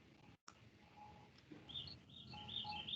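Small pet birds chirp and tweet in a quiet room, several short high calls scattered across a few seconds, fairly faint and close, with no talking.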